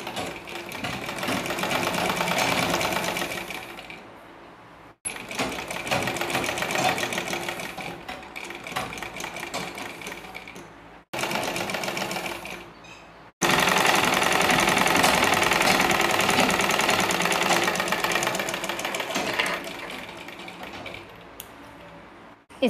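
An electric sewing machine stitches gloves made from old leggings, running in loud rapid bursts separated by brief pauses, with the longest steady run near the end; no one speaks.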